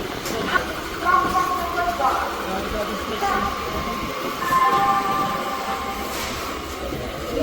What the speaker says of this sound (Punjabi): ਚੰਡੀਗੜ੍ਹ ਰੇਲਵੇ ਸਟੇਸ਼ਨ ਦੇ ਉੱਪਰ ਖੜੇ ਆ